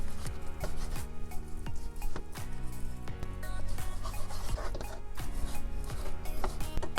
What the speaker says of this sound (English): Next, I'm gonna cut my salt pork.